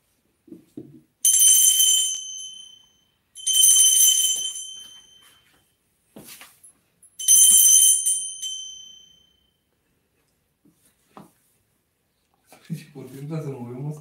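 A bell rings out three times during an exploration of a strange place. Each strike is loud and bright, with a long ringing decay, and silence separates them. A voice speaks briefly near the end.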